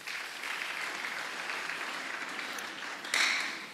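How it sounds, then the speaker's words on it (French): Church congregation applauding for the Lord, sustained dense clapping from a large crowd with a brief swell near the end. "Acclamons très fort pour le Seigneur."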